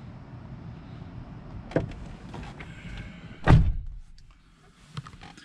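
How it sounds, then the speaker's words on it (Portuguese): On a 2012 Kia Sorento 3.5 V6 AWD, the fuel filler door release is worked from inside the cabin, giving a couple of clicks and one firm thunk over a quiet interior hum. "aqui abertura do tanque de combustível"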